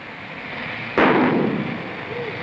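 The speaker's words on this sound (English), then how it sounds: "The firecracker was initiated by flame, as you light a fuse on a bomb." A firecracker lit by flame goes off in a single sharp, loud bang about a second in, followed by a short decaying rumble over a background of steady hiss.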